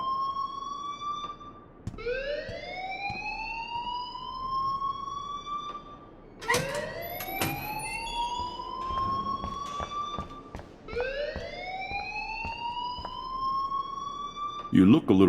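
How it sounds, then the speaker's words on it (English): An alarm in the video game Life Is Strange, a rising siren-like wail sweeping upward and restarting every few seconds, loud and prominent. "please turn off that alarm since that's your job"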